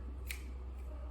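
A single crisp snip from not-very-sharp household scissors being handled while making flower bouquets, close and brief over a steady low background hum.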